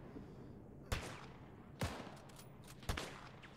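Three sharp gunshots ring out at roughly one-second intervals in a World War II Eastern Front war game battle involving Soviet forces and Panzers, each crack loud against a low rumbling battlefield background.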